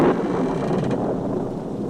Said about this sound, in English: listened to the thunder and the rain and wondered when the storm would stop